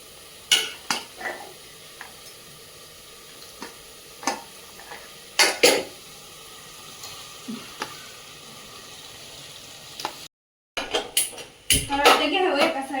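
Pav bhaji masala is stirred and fried in oil in a pan, with a soft sizzle under repeated scraping strokes of a spoon against the metal. Near the end the clatter grows busier, and a voice speaks at times.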